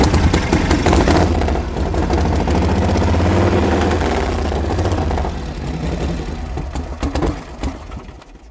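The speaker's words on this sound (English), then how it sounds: "turn on the ignition, give her just a little bit of throttle, remembering the timing is already retarded, and we'll see what happens." A Harley-Davidson Knucklehead motorcycle engine with retarded timing fires and runs loudly and close, a steady throbbing idle that wavers and fades slightly toward the end.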